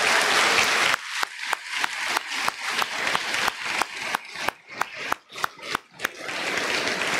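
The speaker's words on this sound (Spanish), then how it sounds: "Un fuerte aplauso, hermanos, para cada uno de los participantes." Congregation at a church costume contest giving the participants a round of applause, a dense roomy burst of clapping that thins into a slower run of separate, distinct claps before the crowd noise swells again.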